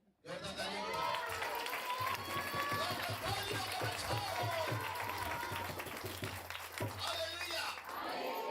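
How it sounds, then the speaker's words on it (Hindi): Loud, sustained applause and clapping from a church congregation fills the whole stretch, with cheers and voices mixed into the crowd noise. "जोरदार तालियों के साथ।"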